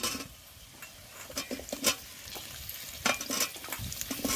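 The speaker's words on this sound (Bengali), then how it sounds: "কুমড়োগুলো দিয়ে আবারও কিছুক্ষণ ভেজে নেব" Pumpkin pieces fry in a pan with ground spice paste for a Bengali vegetarian pumpkin and potato curry, giving a steady close sizzle broken by scraping, stirring knocks.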